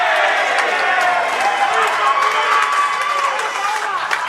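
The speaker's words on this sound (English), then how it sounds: "the crowd is massive here for Lalor" A big crowd at a lawn bowls grand final cheers and shouts loudly and steadily behind the rink, with voices rising and falling in a continuous roar.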